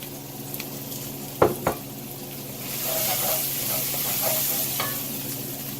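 Garlic sizzling in a pot of five-alarm chili, a steady frying hiss that swells after a couple of sharp stirring knocks against the pot, with faint clinks scattered through.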